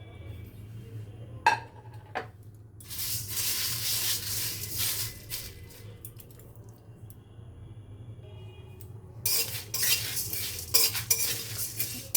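Whole spices such as cumin, bay leaf, dried chillies, garam masala, fennel and black pepper are dry-roasted in a pan, with bursts of scraping and stirring and faint crackling over a low steady hum.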